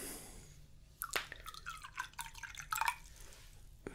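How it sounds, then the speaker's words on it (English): Water is poured into a glass in a close, quiet ASMR setting, giving a run of soft trickling, splashing drips over a faint background hiss, with no voices. "let me pour you a glass of water"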